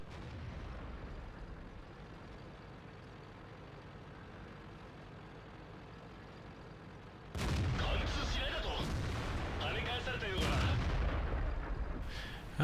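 Tank gunfire from World of Tanks with a Type 61 tank on the Serene Coast map: a steady engine rumble, then a sudden loud, heavy blast with crackling debris and a second boom shortly after.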